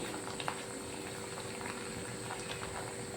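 Potato and semolina snack pieces deep frying in hot oil over a raised medium flame give a steady, dense bubbling hiss with small crackles, close and continuous for the whole stretch, with no talk.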